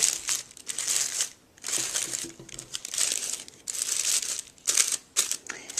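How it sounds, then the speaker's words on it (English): Tissue paper petals being fluffed out on a handmade party favor give off bursts of crisp crinkling and rustling, close by, in several rapid spells separated by short quiet gaps. "And then I'm going to fluff out the petals of the tissue paper."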